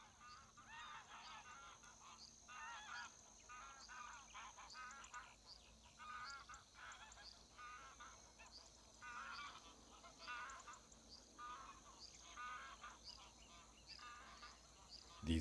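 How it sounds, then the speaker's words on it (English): A large flock of wild migrating geese at Doñana, in the wetlands where birds from northern Europe stop over, honking steadily in a dense chorus at moderate distance, with faint talk underneath. "Numerous flocks of wild, migrating geese stop off at Doñana from northern Europe."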